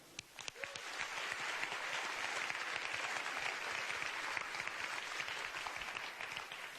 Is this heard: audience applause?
yes